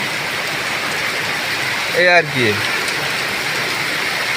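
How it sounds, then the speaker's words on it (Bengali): Heavy torrential rain pours down in a steady, loud, dense hiss during a storm over a flooding road, with a brief burst of speech partway through. "আসলে প্রচুর পরিমাণে বৃষ্টি দেখতে পাচ্ছেন"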